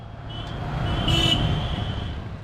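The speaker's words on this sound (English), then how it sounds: "Traffic in Agra can be quite chaotic" Street traffic in Agra, India, with cars, motorcycles, tuk-tuks and bicycles, makes a steady rumble of engines, a brief horn toot and a swelling passing vehicle, moderately loud.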